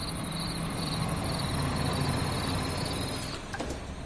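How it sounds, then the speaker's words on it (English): Loud, dense cricket chirping in the Bus Simulator video game, a steady high shrill pulsing drone that fills the scene with no talk. "How loud are those crickets?"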